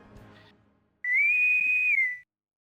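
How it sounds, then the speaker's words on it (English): A boatswain's whistle from Star Trek played off a soundboard: one loud, clean, high whistle held for about a second, rising slightly and falling at the end, after a brief bit of background noise. "Boatswain's whistle."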